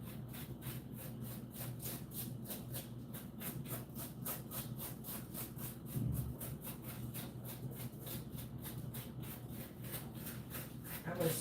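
Caramelized, sugar-topped brown bits are scraped off cooked food with steady rhythmic strokes, a repeated rasping scrape that continues evenly for over ten seconds at close range.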